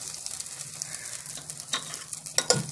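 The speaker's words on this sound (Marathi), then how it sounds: "आता मी हे तांदूळ टाकून घेतलेत आणि ते आता चांगलं परतवून घेणार आहे" Rice with cumin stirred in a pan for Malvani rice kurdai, a soft steady sizzle with faint scraping strokes and a couple of louder stirring clatters near the end, no talk.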